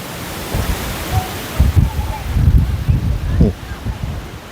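Strong wind gusts roar and buffet the microphone on the Mekong riverside in Mukdahan, a continuous close rumble that swells and eases in irregular bursts.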